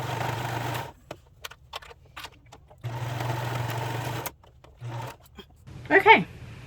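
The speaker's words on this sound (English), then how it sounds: "we will sew up those shoulder seams" A home sewing machine runs in two steady bursts while stitching the shoulder seams of a top, close and moderately loud, with light handling clicks between the runs and a brief voice at the end.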